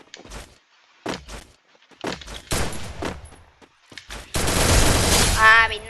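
Rapid bursts of gunfire in the mobile battle royale game Free Fire Max, a dense loud volley near the end following a few short separated shots, with voices talking between them.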